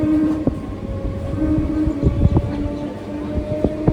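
An early-morning suburban train heading for Sealdah runs with a continuous close rumble, overlaid by scattered sharp clicks and knocks from the wheels and carriages.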